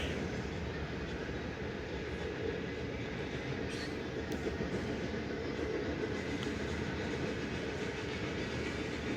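Long freight train rolling past at close range, a steady heavy rumble with continuous clickety-clack of wheels on rail joints, unbroken for the whole stretch with no voices.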